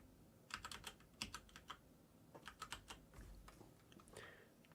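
A verification code is typed on a computer keyboard: quiet, close key clicks in two short irregular bursts, with soft background noise between them.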